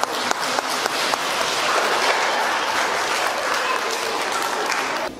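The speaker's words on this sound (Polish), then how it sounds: "Gorące brawa dla zespołu i dla pana kapelmistrza." Warm, sustained applause from a concert audience cheering a youth brass band and its bandmaster at a New Year concert at a culture house in Włoszczowa, with dense steady clapping filling the hall throughout.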